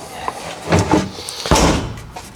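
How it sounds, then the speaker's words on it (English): Blows struck against a metal garage door during rear-end body work on a Subaru, giving several sharp, resonant knocks and bangs close by, with the loudest impacts bunched near the middle of the clip. "As I hit my garage door."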